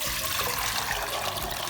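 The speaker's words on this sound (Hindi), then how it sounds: "सबसे पहले हम एक खुला बर्तन ले लेंगे, उसमें हम डालेंगे 1 जग पानी भर के" A full jug of water pours into an open cooking pot to boil chicken for hot and sour soup, a close, steady splashing gush running without a break and with no talk.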